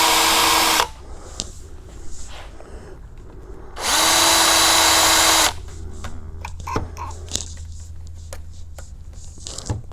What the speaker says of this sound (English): I just take my drill and make a mark